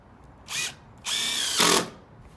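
A power drill drives screws through plastic deck boards and a wooden sister joist in three short, loud whirring bursts, the last the longest, with quiet gaps between.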